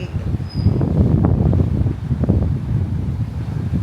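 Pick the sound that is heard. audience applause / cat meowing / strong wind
strong wind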